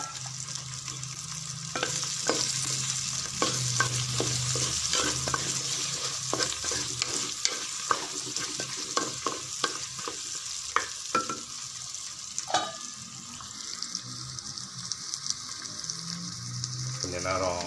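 Soaked potato pieces fry in a pan for a mango curry, a constant sizzle broken by repeated sharp scrapes and clicks of a spatula, near and moderately loud, without talk.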